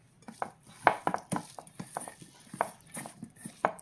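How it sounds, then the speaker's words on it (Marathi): Coriander being mixed into a brinjal stuffing masala, heard as a close series of irregular clinks and scrapes of a spoon against a bowl, with faint background sounds between the taps. "आपण ह्याच्यामध्ये थोडीशी कोथिंबीर मिक्स करूयात मसाल्यामध्ये"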